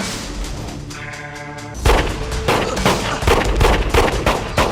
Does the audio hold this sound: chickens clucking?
no